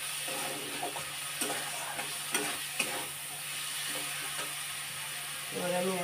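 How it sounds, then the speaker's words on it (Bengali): Spice masala sizzles steadily in a pan as it is sautéed, with repeated scraping strokes of a spoon stirring it, close and constant under a low background hum. "মশলাটা আমার কষা হয়ে আসছে।"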